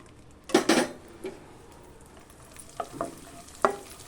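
Raisins and cashews fry in ghee in a pan, stirred with a utensil: two close clattering scrapes, then softer sizzle and a few lighter clinks of metal.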